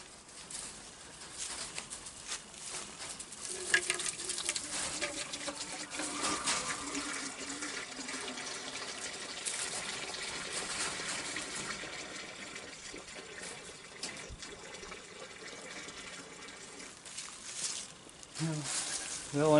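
Water pours steadily into a large water container for farm animals during morning chores, a continuous splashing and filling sound that stays fairly quiet and runs for about twenty seconds with some faint background noise.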